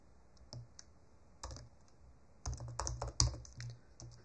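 Keys on a computer keyboard clatter close by in short irregular bursts of typing separated by pauses, the clicks quick and crisp in an otherwise quiet room.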